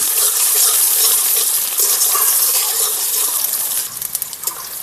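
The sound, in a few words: chopped onion frying in hot oil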